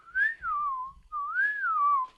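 Someone whistles two sliding, wavering phrases, rising then falling in pitch, mimicking the fluting speech of cartoon creatures.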